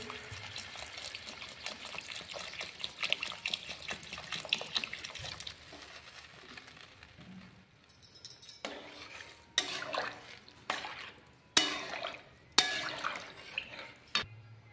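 Water is poured into a pan of sautéed potatoes, giving a soft, steady splashing that fades. Then comes a series of sharp clinks and clatters of utensils against the pan, with no talk.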